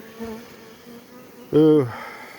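Honey bees buzz at an apiary, a steady low drone with one close, loud bee passing by near the end.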